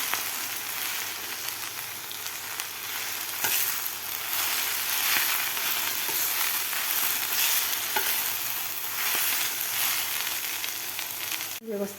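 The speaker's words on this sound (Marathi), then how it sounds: "भाजी व्यवस्थित हलवायची आपल्याला" Vegetable bhaji sizzles steadily in a pan while being stirred, a continuous loud frying hiss with occasional scrapes and clinks, ending in a sharp knock.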